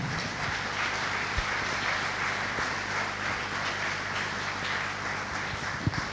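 Steady applause from an audience at a Sardinian cycling celebration in Sennori, a dense, even wash of clapping lasting several seconds with a few sharper claps standing out.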